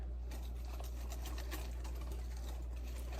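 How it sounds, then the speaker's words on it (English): Ground spices and salt being whisked together in a bowl for a pumpkin pie, heard as a rapid, steady patter of light ticking strokes over a low constant hum. "we're gonna whisk this all together."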